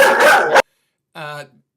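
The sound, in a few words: dog barking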